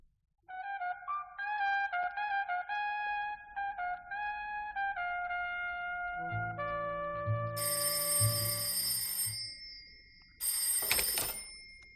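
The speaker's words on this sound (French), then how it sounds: "Allô? Oui, c'est bien le bureau du commissaire Parent" A telephone rings in a French radio crime drama, a bright electronic ring that repeats in a rhythmic pattern, then shifts into a louder, harsher ringing tone before one final burst, with no voices.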